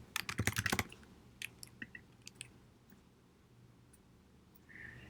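Fingers typing a password on a computer keyboard, a quick burst of close keystrokes followed by a few scattered single clicks in a quiet room.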